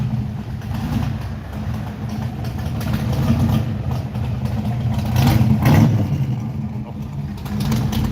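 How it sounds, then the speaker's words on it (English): A Pontiac GTO engine rumbles steadily at close range as it departs a car show, with a low idle that swells briefly as if revved, then settles back. "nice Pontiac GTO coming up."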